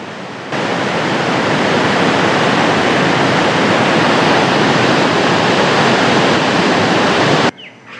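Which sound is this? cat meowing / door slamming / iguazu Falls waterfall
iguazu Falls waterfall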